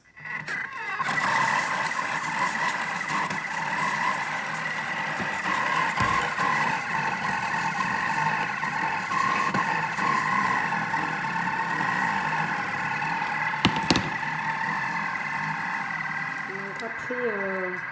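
A Thermomix runs on its varoma steaming function at speed 1 while making fig jam, giving a steady mid-pitched motor hum with a faint rumble that continues evenly throughout, with a few brief clicks near the end.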